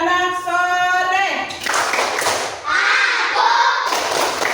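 A class of second-grade schoolchildren claps a rhythmic chant in a classroom, quick bright claps in patterned bursts mixed with loud sung and spoken voices, led by a teacher's call at the start.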